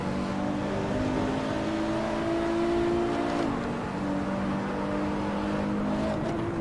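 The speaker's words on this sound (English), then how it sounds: "he's fishtailing his Porsche everywhere" A Porsche production car being driven fishtailing around the Nürburgring in the racing game Assetto Corsa, its engine holding a steady, loud droning tone with slight pitch shifts, and no talking over it.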